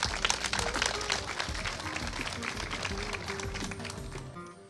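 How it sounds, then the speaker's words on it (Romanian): Audience applause at a Miss Plaja 2019 beauty pageant evening-gown round as a contestant is introduced, a dense, steady wash of many hands clapping that fades slightly toward the end. "iar acum o aplaudăm pe Alexandra Chiriac din București"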